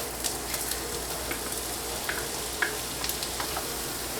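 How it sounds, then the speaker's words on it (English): Onions sizzling in melted butter in a cast iron skillet, a steady soft crackle with small pops scattered throughout, close and continuous with no voices. "To the same cast iron skillet, add 1 tablespoon of butter. And once it's melted, add your onions,"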